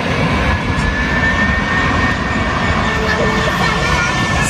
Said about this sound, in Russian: Самолет, да?